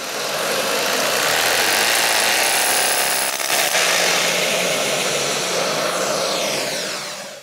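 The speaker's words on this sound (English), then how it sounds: "I'm now going to drill the very first hole just here" A power drill bores through a brick wall, grinding steadily and loudly for about seven seconds, with a brief dip midway, its motor whine and gritty bite continuous throughout.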